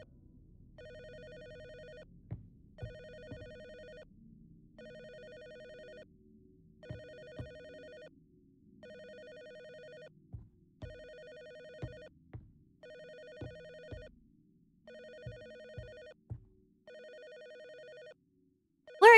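A telephone rings in a regular repeating pattern of nine or ten electronic tone bursts with short gaps between them, fairly close and clear, and some low thumps and knocks sound beneath the rings.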